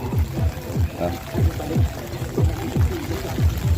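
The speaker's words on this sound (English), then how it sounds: "Now it's raining and windy." Rain and gusting wind at an outdoor Lao New Year festival in Dallas, Texas, during a storm, a steady broadband wash under someone talking throughout.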